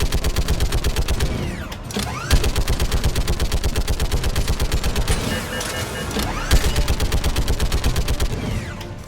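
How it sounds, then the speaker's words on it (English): Rapid automatic gunfire from guns shooting at Cerberus ships in Mass Effect 3, loud and close, sustained rhythmic bursts with brief swells and pauses around two and six and a half seconds. "the guns are already picking Cerberus ships out of the sky"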